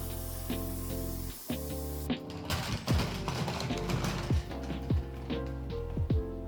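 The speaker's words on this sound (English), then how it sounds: "I got my Wagner spray gun all prepped with my primer." Sustained hiss of a Wagner paint spray gun spraying primer onto furniture, running steadily, with mechanical clicks and clatter layered over it, close by.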